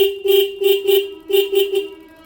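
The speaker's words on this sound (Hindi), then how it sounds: "मैं हॉर्न का साउंड सुनाता हूँ आप लोग को।" A Bajaj Pulsar N160 motorcycle horn beeps in a quick series of loud, close toots, short blasts with a steady tone.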